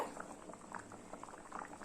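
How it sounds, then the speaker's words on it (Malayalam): Kerala sadhya-style sambar bubbling steadily in a pot, a close, soft, continuous blur of popping and burbling liquid with no talk. "ഈ സാമ്പാറൊക്കെ നന്നായിട്ട് തിളച്ചിട്ട് കറക്റ്റായിട്ടുള്ള പാകമായിട്ട് വന്നിട്ടുണ്ട്"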